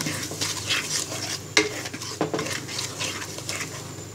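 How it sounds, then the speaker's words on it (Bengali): Spices and sugar for a Bangladeshi chalta pickle are stirred in a pot, giving a steady scraping and rustling with a few sharp clinks of the spoon against the pan, close and clear with no talking. "এবার চিনিটাকে মশলার সাথে ভালো করে নেড়ে নিব।"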